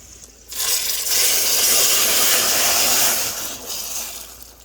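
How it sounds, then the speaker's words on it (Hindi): A loud sizzling hiss rises suddenly as onions hit hot oil for a tadka, holding steady for a few seconds before easing off, no voices. "प्याज फ्राइज होने के लिए हमने रख दिए"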